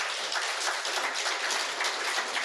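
Dense, steady applause from an audience at a Brahma Kumaris spiritual talk in Bangalore, a continuous wash of many hands clapping at even loudness, with no pauses.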